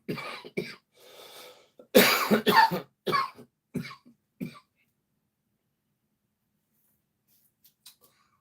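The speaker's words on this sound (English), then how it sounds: "I heard myself cough on her phone." Several close, sharp coughs come in uneven bursts, a cluster in the middle, then silence.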